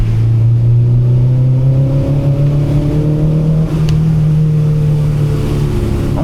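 A 2000 Honda Civic SiR with full exhaust revs on a rainy night drive in Quezon City, a loud, close engine drone whose pitch climbs steadily in a rising sweep, with a brief dip near the middle.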